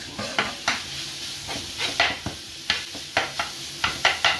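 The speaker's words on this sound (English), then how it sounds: "I can actually hear the meat now sizzling away nicely" Lean minced meat sizzles in a pan while a utensil scrapes and stirs in repeated bursts, close and fairly loud, with no talking.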